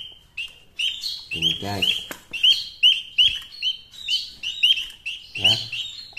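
Small Javan munias, emprit birds kept in a cage, give repeated thin, high chirps close by in quick irregular bursts, while someone speaks briefly over them.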